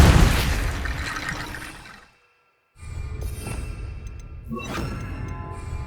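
Depulso force spell firing in Hogwarts Legacy, a loud blasting whoosh and impact that fades into a brief silence, followed by a second burst of crackling, rumbling magic.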